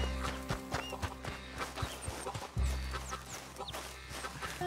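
Horse hooves clip-clop in the video game Red Dead Redemption 2, a steady rhythmic trot close by over a rural backdrop with clucking chickens and birdsong, plus a low background rumble.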